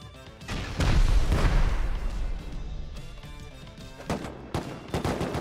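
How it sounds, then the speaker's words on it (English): Grenade blasts and rapid gunfire in a video game raid, a heavy boom early followed by crackling bursts and scattered sharp shots, loud and close with no talking. "I just hit them with a grenade"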